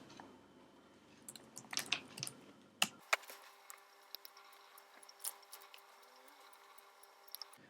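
Short bursts of clicking keystrokes on a computer keyboard as commands are entered, faint and close, with scattered taps separated by quiet gaps.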